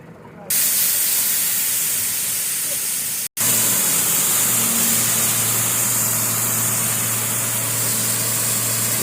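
A truck delivering a load of gravel, its engine running loud and close with a steady rumbling drone and hiss, interrupted by one brief dropout before continuing.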